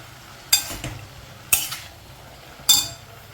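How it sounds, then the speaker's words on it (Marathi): Moong dal is stirred in a metal pan, the spoon striking and scraping the pan in three sharp, evenly spaced clinks over a quiet background, with no voices. "मुगाची डाळ चांगली हलवून घ्यायची आहे"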